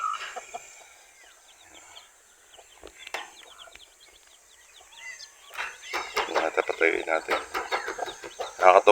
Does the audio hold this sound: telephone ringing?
no